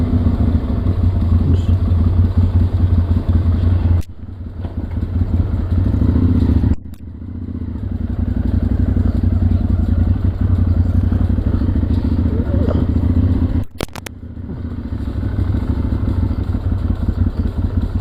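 Motorcycle on a group ride in the Azores, a loud, close engine drone with wind rush throughout, a few sharp clattering thumps and brief dips in the engine noise along the way.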